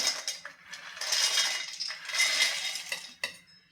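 Peanuts being tipped into a steel mixer grinder jar, a close, bright rattling pour in two main bursts, with a few separate clinks and a sharp tap near the end.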